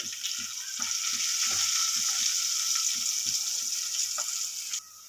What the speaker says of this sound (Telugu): రెండు మూడు సన్నగా తరిగిన వెల్లుల్లి ముక్కలను వేసేసుకోవాలి ఆనియన్ పచ్చిమిర్చి ఇలా ఫ్రై అయింది కదా